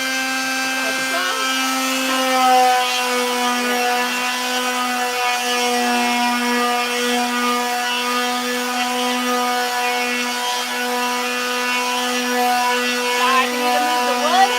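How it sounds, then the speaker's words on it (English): A palm sander fitted with 220-grit sandpaper runs on wood with a steady, even buzzing hum that holds unbroken for about fifteen seconds, close to the listener and alone. "Palm sander, 220 grit."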